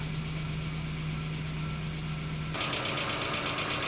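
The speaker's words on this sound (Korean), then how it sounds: "자, 시동 켰죠." A car engine runs at a steady idle after starting during a crankshaft and camshaft sensor check. A constant mechanical drone is heard, and its tone shifts abruptly partway through.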